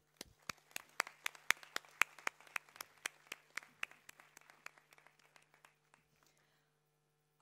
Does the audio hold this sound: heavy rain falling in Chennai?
no